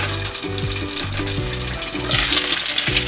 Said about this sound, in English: So we have to cook them until they become half roasted